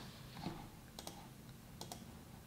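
A few quick, faint keystrokes are typed on a computer keyboard while the word is entered for a keychain lettering design, coming as two brief clusters of soft clicks.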